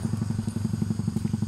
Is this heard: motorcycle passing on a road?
yes